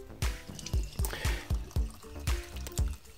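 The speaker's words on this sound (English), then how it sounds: "I'm gonna fill this with water and essentially just wet sand it" Water dripping and splashing at a regular pace as a PlayStation disc is wet sanded, with about a dozen distinct, close drips or spatters landing one after another in an even rhythm.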